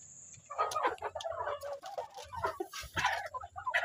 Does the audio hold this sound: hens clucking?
yes